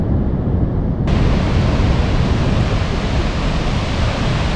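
A powerful waterfall roars in a continuous, dense rush of water, loud and close throughout, in a snowy winter region.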